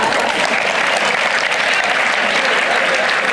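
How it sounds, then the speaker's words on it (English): A classroom audience at a student induction program claps for a student, giving dense, continuous applause at steady loudness throughout, with no voices rising above it. "Very good. Clap for Leela"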